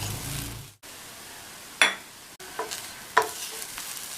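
A spoon stirs spice powder into plantain stir-fry in a pan, with soft scraping and faint sizzling and a couple of sharper clinks against the pan.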